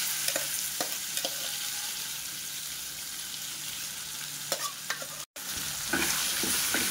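Turmeric and curry leaf paste being mixed in a hot pan, a continuous close sizzle with scattered spoon scrapes and taps, steady and fairly loud, with a brief dropout near the end.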